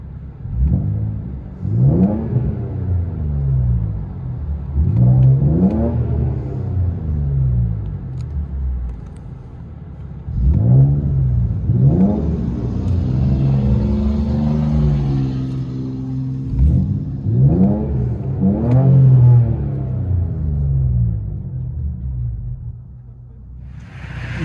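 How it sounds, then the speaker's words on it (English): Straight-piped Infiniti Q50S Sport with 1.75-inch true dual exhaust into 4-inch tips, revving loud and raspy in repeated rising blips, close and strong, with no talk over it. "INFINITI Q50S Sport. 1 3/4 true duals all the way back into 4-inch tips."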